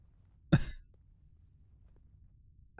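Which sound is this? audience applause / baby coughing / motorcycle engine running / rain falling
baby coughing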